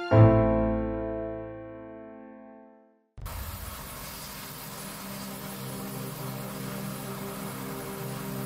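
A steady, broad roar of a helicopter rotor and engine starts suddenly after a fading musical tone, then carries on evenly at close range with no talking.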